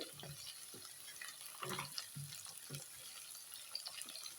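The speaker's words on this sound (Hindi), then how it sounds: "मैंने धीमे आंच में 5 मिनट के लिए आलू को फ्राई किया।" Potato pieces fry in a pan over low heat, a soft, quiet sizzle with intermittent scraping and stirring sounds up close, no voices present.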